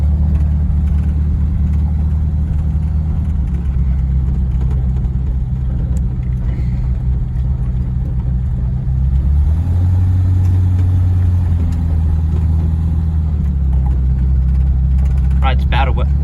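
A 1951 Packard 300 Ultramatic sedan's engine rumbles steadily as it rolls over rough ground in a field, with a brief rise in revs midway and some faint clatter.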